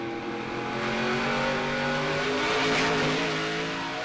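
A NASCAR stock car at the 2011 Toyota All-Star Showdown at Irwindale roars at full throttle, its engine loud and close with a rising, sustained pitch as it drives on around the oval without lifting.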